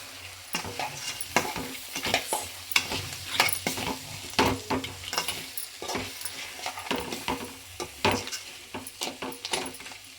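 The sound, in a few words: small crabs frying and being stirred in masala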